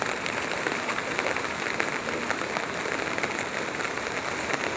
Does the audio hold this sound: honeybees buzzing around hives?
no